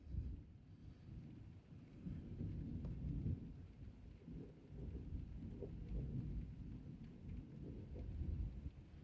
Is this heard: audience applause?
no